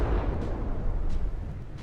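Warship weapons firing in a naval combat game, a rapid series of deep booms and rumbling blasts, loud and dense, with no talk over them.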